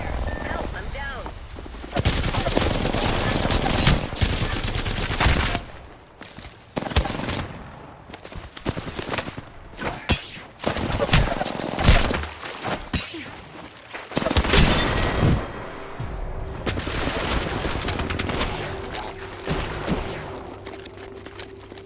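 Shooter video game gunfire comes in heavy bursts of rapid shots and loud impacts, broken by short lulls, with game sound effects and voices mixed in throughout.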